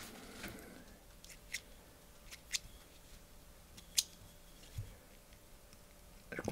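Scissors trim stray fibres from a fly-fishing nymph on the vise: four or five soft, separate snips spaced about a second apart, close and quiet, with no voices.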